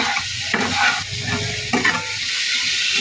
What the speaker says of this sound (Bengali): এবার ভালো করে নেড়ে চেড়ে নিচ্ছি।